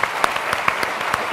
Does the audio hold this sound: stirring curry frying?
no